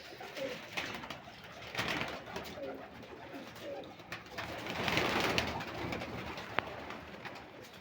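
Pigeons coo softly in repeated low, throaty calls, with faint rustling and background noise around them.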